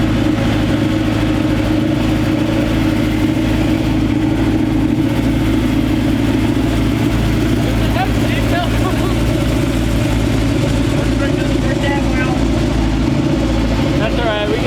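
A 1965 Chevy C-10 pickup rumbling steadily from inside the cab as it drives, a constant low engine drone with people talking over it.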